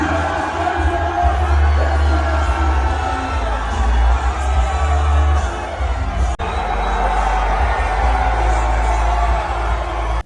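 A large crowd at a Trump gold sneaker event keeps up a steady, loud roar of cheers, whoops and shouting for the whole stretch, with a brief dip near the end before the noise swells again.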